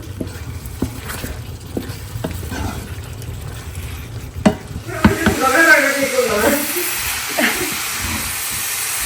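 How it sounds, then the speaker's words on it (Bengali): Beetroot frying in a pan with a spatula stirring it: irregular close scraping clatters and knocks, then a louder burst of sizzling hiss that settles into steady frying. "বিটরুট ভাজি করতেছি"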